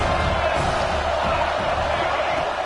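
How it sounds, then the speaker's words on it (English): Stadium crowd noise from the College Football 26 video game, a dense continuous roar of a large crowd with rumbling cheers, steady and loud throughout. "Here comes the crowd noise,"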